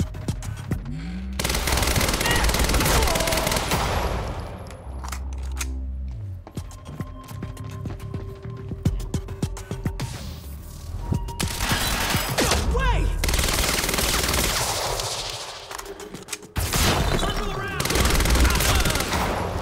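Rapid automatic gunfire in Quantum Break, long loud bursts with brief pauses between them, with other in-game effects around the shots.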